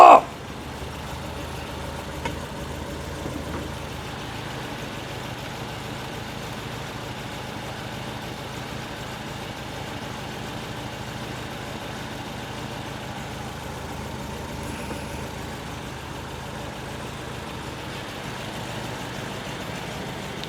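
A 1968 VW Type 3 with an 1835cc engine idles steadily and fairly quietly for about twenty seconds, a low even hum with no talk over it.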